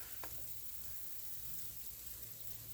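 Water spraying steadily onto young bean plants in a garden in the morning, a continuous soft hiss close by with no talking.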